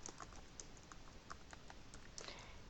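Someone types on a computer keyboard while filling in an email message, a quiet, irregular run of light key clicks with short pauses between them.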